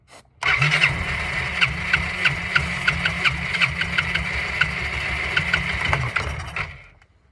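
A Yamaha Riva 200 scooter engine, primed with starter fluid, cranks on its electric starter with a steady mid-pitched whine and irregular sharp ticks and pops for about six seconds before dying away. It is close and there is no talk.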